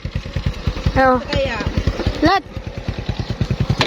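A motorcycle engine putters with a steady rapid pulse close by, running throughout while people talk and call out over it.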